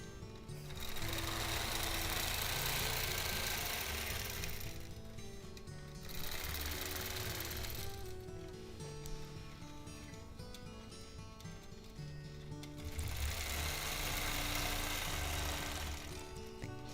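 A sewing machine quilting a crosshatch variation with ruler work runs in three long stitching bursts separated by short pauses, a steady close mechanical chatter with no voices.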